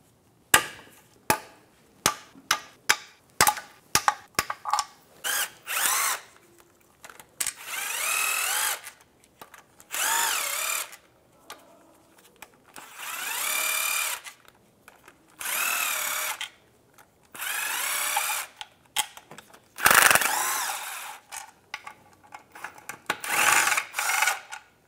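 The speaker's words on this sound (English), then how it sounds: "take out the rest of the bolts using a 10 millimeter socket" Oil pan bolts come out of a 1998-2010 Volkswagen Beetle with a 10 millimeter socket on a power tool, heard as many short whirring bursts separated by brief pauses, some rapid and some longer, close and clear.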